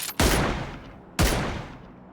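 Two heavy gunshot bursts in a PUBG battle royale match on the Vikendi map, each a loud sharp crack followed by a long decaying echo, spaced about a second apart with no voices.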